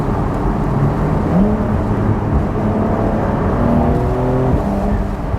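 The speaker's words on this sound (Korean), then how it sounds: "이게 오픈을 하니까 뒤에 엔진 사운드가 더 잘 들려요 지금." A Porsche 992 Carrera 4S cabriolet engine heard from inside with the roof open, a steady rumbling drone with rising and shifting tones as the car accelerates through gears.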